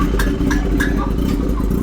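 A motorcycle fitted with an SC Project exhaust idles loudly and close while warming up, a rough, even burble with small ticking clatter on top.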